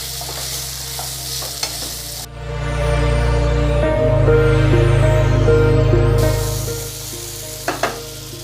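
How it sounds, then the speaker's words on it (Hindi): Chopped guava is stirred into fried ginger in a pan for chutney: a spoon scrapes and knocks against the metal, then a loud, steady sizzle with a low hum takes over before the scraping returns with a few sharp clinks. "अमरूद को हम चला लेंगे।"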